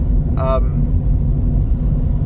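A turbo-upgraded Nissan R32 Skyline engine drones low and steady while driving uphill, a continuous rumble throughout, with a brief higher tonal whine near the start.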